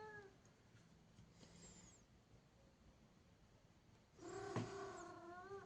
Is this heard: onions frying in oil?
no